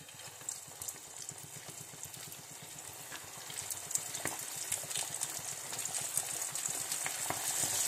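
Chicken kebab pieces coated in cornflour fry in hot oil, a steady bubbling sizzle with crackling pops that grows slightly louder toward the end.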